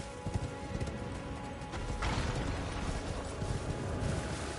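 Horse hooves clip-clop under a rider in the video game Elden Ring, a rapid patter of soft thuds buried in dense, rumbling game noise that swells slightly halfway through.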